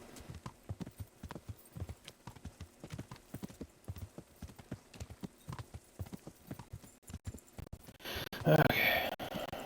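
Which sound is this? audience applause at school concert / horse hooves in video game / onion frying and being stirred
horse hooves in video game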